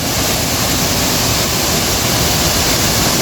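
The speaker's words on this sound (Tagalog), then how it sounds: "Ito yung view sa pinakaunang falls dito." A waterfall in Agusan del Sur, Mindanao, roars as a loud, unbroken rush of falling water, filling the whole clip with dense, even noise and no talk.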